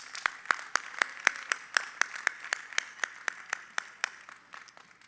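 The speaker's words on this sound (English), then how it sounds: "Can we give them a round of applause?" Audience at a first-year academic opening and welcome ceremony claps in sharp, distinct, fairly quiet claps, about twenty spread unevenly over several seconds, with no talk.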